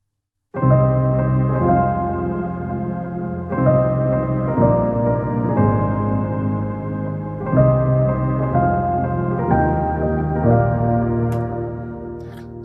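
Soundiron Sonespheres 3 virtual instrument layered with piano plays slow, sustained chords that swell and overlap, each change marked by a soft piano attack, clear and alone with no speech.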